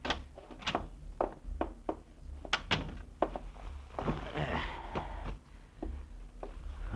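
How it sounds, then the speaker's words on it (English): A door opens as a radio drama sound effect, heard as a series of hollow thunks and knocks with a latch-like clatter, fairly close and fairly quiet, with no speech over it. "Get the door, will you?"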